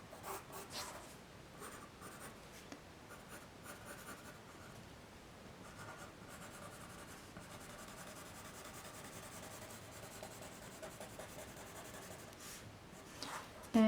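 A pen drawing a seam allowance line on paper towel for a plush shirt pattern, giving a faint, continuous soft scratching and rubbing at close range with a slight bump at the end.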